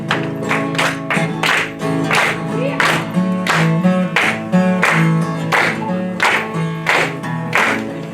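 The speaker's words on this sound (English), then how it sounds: "I need you to clap." A standing audience claps in steady rhythm along with a music track at a program session, the beats evenly spaced under a sustained tonal backdrop.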